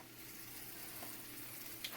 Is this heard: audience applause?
no